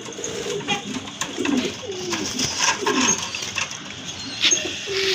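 A pair of pigeons with matching markings and colour coo nearby, giving soft repeated low warbling calls over faint background noise.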